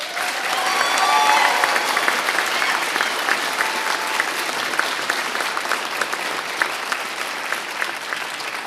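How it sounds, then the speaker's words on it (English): Sustained applause from the audience at a fire academy graduation ceremony, a dense crowd of clapping that stays steady and fairly loud throughout with no pause. "Ladies and gentlemen, how about a big round of applause?"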